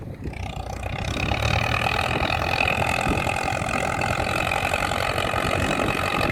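A steady, rumbling Ford tractor engine idles close by, its low throb continuous and even, with strong wind noise blowing across it.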